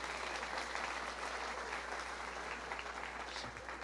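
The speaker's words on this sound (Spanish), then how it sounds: "Lo primero que estamos haciendo es que les estamos dando un aplauso de bienvenida" A congregation at a church service claps in welcome for visitors, a sustained, even round of applause from many people in a large indoor space.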